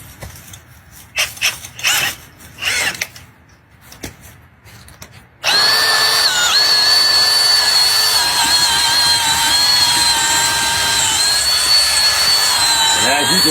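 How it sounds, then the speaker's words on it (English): A power drill spinning a vent cleaning brush starts abruptly and runs loudly and steadily with a high whine, after some quieter scraping and handling noises. "You're going to want to stick this in and just start running your drill."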